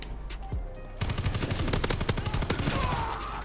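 Rapid, loud automatic fire from a DLC weapon in the video game Call of Duty WW2, a dense close burst of shots after a brief quieter lead-in.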